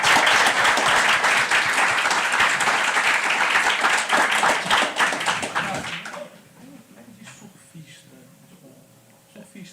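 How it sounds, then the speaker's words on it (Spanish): An audience at a talk on cultural rights breaks into dense, loud applause for about six seconds. It then fades out abruptly into quiet room tone with faint murmurs. "Si quieren aplaudir, aplaudan."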